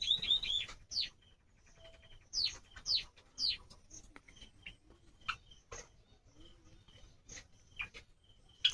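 A colony of Java sparrows kept in an enclosure of earthen cages, giving sharp high chirps and tweets in scattered bursts over several seconds, nearby and fairly clear, with no talking.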